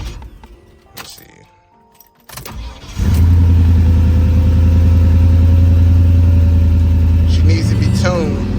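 A 1986 Monte Carlo SS T-Top with a swapped LS engine cranks briefly, then fires and settles into a loud, steady, rumbling idle close by. Someone talks before the start.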